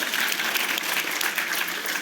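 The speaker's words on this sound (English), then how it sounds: "yes, round of applause, I love it." A book-talk audience applauds steadily, a dense wash of many hands clapping close and loud for the full two seconds, with no talking over it.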